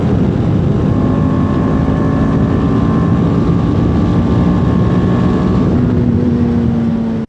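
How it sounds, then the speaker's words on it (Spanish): A TVS Apache RR310 motorcycle engine runs with a loud, close and steady droning hum, holding an even pitch throughout without distinct rises. "Algo que me gusta mucho es el sonido del motor"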